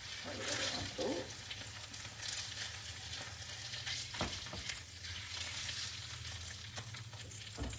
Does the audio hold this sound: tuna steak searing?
yes